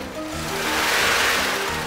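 The 500 cubic inch (8.2-liter) V8 of a 1972 Cadillac Eldorado revs up in one brief swell, a rough, close engine roar that rises and eases back.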